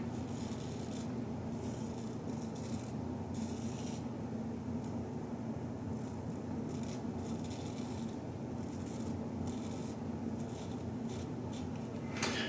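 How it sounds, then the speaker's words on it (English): Razor shaving facial hair under the nose with a shaving kit, a soft continuous scraping rasp in short repeated strokes, close but quiet over a steady background hiss, with no talking. "Now, shaving under the nose."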